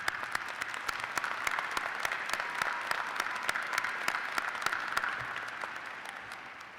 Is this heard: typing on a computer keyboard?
no